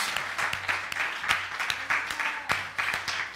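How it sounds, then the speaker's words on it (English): Visitors are greeted by a church congregation with a round of applause, many hands clapping in a steady, moderately quiet patter with occasional sharper claps standing out. "can we greet them this morning with a round of applause?"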